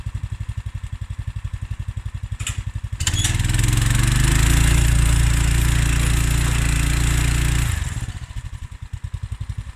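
A tractor fitted with dual wheels labors against a heavily loaded trailer that will not budge: a close, loud thumping idle swells into a roaring strained rev for several seconds, then drops back to a pulsing idle.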